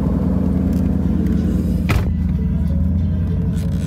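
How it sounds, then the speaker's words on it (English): A twin turbo Mustang GT with an automatic transmission moves off, its engine giving a loud, close, steady low rumble and one brief thump near the middle. "I'm going to move the car."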